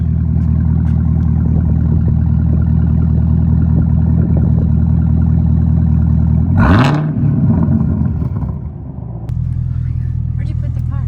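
A 2019 Camaro ZL1 1LE with a new aftermarket exhaust rumbles at a steady idle, then barks through one sharp rev midway before settling back to a deep idle.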